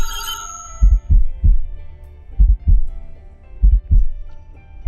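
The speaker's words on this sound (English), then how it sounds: "The heartbeats are actually real" Heartbeat effect from the video game Death end re;Quest: Code Z: loud, deep paired thumps repeating in a slow steady rhythm, each lub-dub pair separated by a short pause, with no talking over it.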